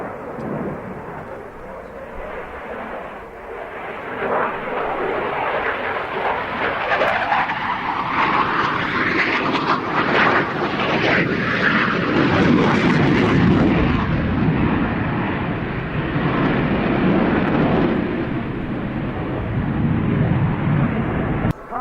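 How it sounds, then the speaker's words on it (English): An Italian Air Force jet flies an airshow display at the Royal International Air Tattoo, its engine roar building and sweeping past with a rising and falling rush. A commentator speaks over the sound throughout. "Captain Vigilio, with the inverted flight, leads us to the final part of the Italian Air Force display here at the Royal International Air Pursuit."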